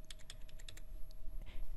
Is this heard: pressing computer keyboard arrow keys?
yes